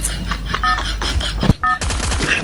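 Rapid bursts of gunfire in the Free Fire battle-royale video game, a few sharp volleys and single shots with a loud crack midway, over noisy game ambience.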